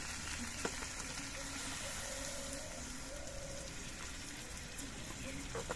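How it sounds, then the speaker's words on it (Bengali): Milk added to a pan of pointed gourd frying, giving a steady, soft sizzle and bubbling hiss that continues evenly throughout at moderate distance. "এবার এর মধ্যে আমি দুধটা দিয়ে দিচ্ছি"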